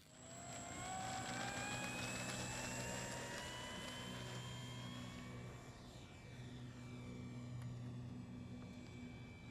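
A radio-controlled model airplane fitted with a six-axis stabilizer flies overhead, its small motor a thin, steady whine that shifts in pitch as it passes, heard faintly at a distance outdoors with no talk.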